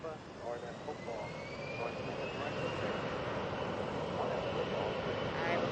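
A heavy Airbus jet departing from Atlanta gives a steady, loud, broad engine roar across the whole stretch, with a faint whine rising through it, heard from a distance.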